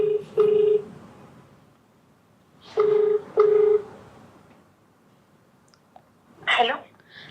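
Telephone keypad tones sound as a phone call is dialed: several loud, steady beeps in short separated groups, with a brief rustling noise near the end.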